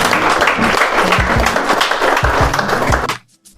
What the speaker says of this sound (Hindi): उसके मैनेजमेंट के लिए, उसके टीम के लोगों के लिए, फाउंडर के लिए हम लोग एक बार जोरदार ताली बजाएं